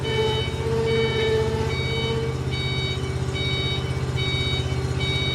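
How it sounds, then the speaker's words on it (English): A steady electronic parking brake warning beep repeats in short regular pulses over a low, constant machine idle, with no talking; the beep sounds when pulling forward with the brake on. "That beep is telling you that your e-brake is on."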